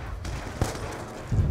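A single sharp sniper rifle shot in the video game Call of Duty Black Ops 2 cracks out above a low, rumbling game soundscape, with a faint thump following at the end.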